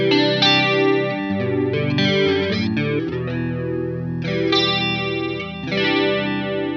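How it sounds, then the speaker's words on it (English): Electric guitar through an AmpliTube 5 chorus effect for an 80s tone, playing loud, shimmering sustained chords and arpeggiated notes that ring continuously with a wide, doubled sheen. "Chorus is just such a nice effect, right?"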